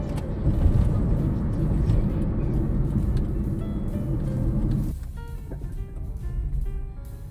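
A car climbs a winding mountain road with a steady, loud engine and road rumble. Partway through, the rumble drops to a quieter, lighter hum.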